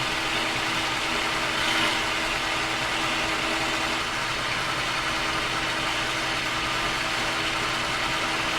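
Machine tool taking a first fifty-thousandths cut with a ground insert while repairing a Black Diamond drill grinder's diamond wheel dresser, a continuous steady motor drone with a broad hiss of cutting, no voices.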